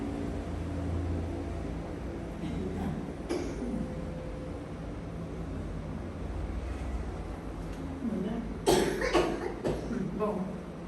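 A sudden burst of harsh coughing and sputtering over a steady hiss of background noise, with a few strained throat sounds before and after.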